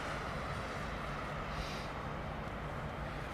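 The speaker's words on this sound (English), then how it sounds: "loving the engine sounds." A low, steady engine rumble from an aircraft at Heathrow Airport, a continuous faint drone with no clear rise or fall over a few seconds.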